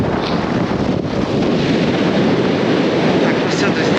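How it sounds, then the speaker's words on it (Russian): Strong, steady coastal wind on the Crimean shore near Ordzhonikidze roars and buffets the microphone throughout, a dense rushing noise with no break, loud and close. "Ветер сумасшедший просто."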